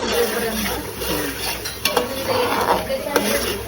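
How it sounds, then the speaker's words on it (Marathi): Masala for katachi amti roasts in oil in a pan with a steady sizzle, while a spoon stirs and scrapes, giving a few sharp clinks against the pan. "मसाला किती छान असा छान भाजून घ्यायचा आहे"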